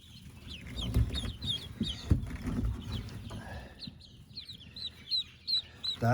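Newly arrived ducklings, magpie and black Cayuga ducks, peep in a steady high chorus of short chirps close by, over low rustling and bumping from their box and a few louder knocks.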